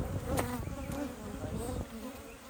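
Agitated honeybees buzz in a continuous, wavering drone during a hive inspection, close and fairly faint, with no voices over them.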